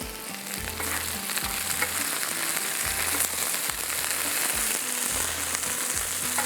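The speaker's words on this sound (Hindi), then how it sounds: "इसको थोड़ा सा फ्राई करेंगे, हल्का सा, ज़रा लेस इसकी कम हो जाए।" Shallow frying in a pan with little oil, likely okra or potato pieces for a desi masala, a steady crackling sizzle held close and even for several seconds with a faint low hum underneath, no talking.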